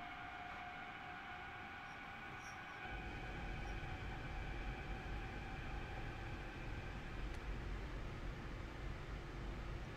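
A train running in Train Sim World, a steady rumbling drone with a sustained hum that grows louder and fuller after the first few seconds and continues without break.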